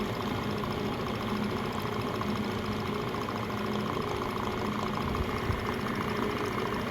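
A vintage Van Norman 204 brake lathe runs at full speed, giving a steady, continuous mechanical hum and whir with a faint regular ticking, constant in level throughout.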